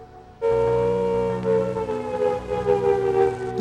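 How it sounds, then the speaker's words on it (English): A loud air raid siren starts abruptly and wails steadily, its tone wavering slightly as it sounds. "That siren sound, it's just so evocative."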